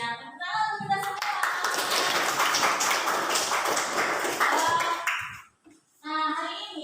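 A classroom bursts into applause, many hands clapping together in a dense, steady burst for about five seconds, then a voice speaks after it stops.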